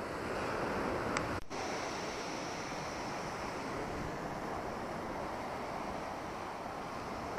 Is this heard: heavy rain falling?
no